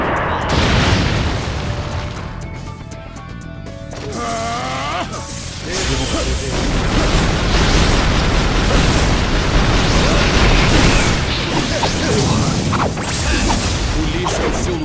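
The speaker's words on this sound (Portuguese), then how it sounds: "Jutsu da super bomba do tubarão aquático" A water shark super bomb jutsu explodes in Naruto Shippuden Storm 4 on PS4, with a loud, sustained booming roar and rushing surge layered over game music and voices.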